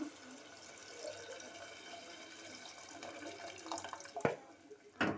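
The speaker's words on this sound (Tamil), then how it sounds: "தண்ணி நான் ஆட் பண்ணியிருக்கேன்" Water poured into a pot for Tamil-style potato rice, just after tamarind is added to the sautéed mix; a quiet, steady trickle runs throughout, with two sharper splashes near the end and no talking.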